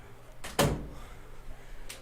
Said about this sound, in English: as I try to close this door